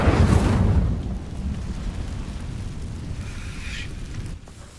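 The Incendio fire spell in Hogwarts Legacy ignites dry vines with a loud whooshing burst that fades into a softer crackling, rushing burn.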